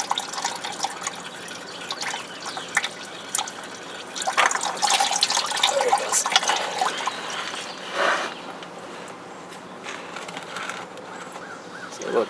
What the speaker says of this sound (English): so that way everything will drain out.